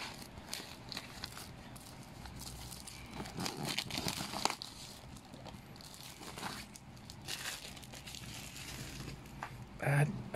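Scissors snip and crinkle through the plastic packaging of a self-heating rice meal, with rustling, tearing sounds throughout and a sharper burst near the end.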